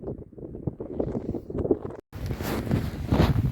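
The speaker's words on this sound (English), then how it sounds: "The wind, I'm blocking you from the wind at the minute, but it's become quite brutal." Strong gusts buffet an outdoor microphone on a windy day of metal detecting, a rumbling roar that builds and continues with a brief dropout partway through, loud and steady with no talking.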